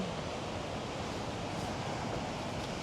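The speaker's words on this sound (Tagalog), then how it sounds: "Lakas ng alon, no?" Strong ocean surf pounds a beach at Port Elliot, South Australia, a steady roar of breaking waves filling the whole stretch, with wind mixed in and no voices.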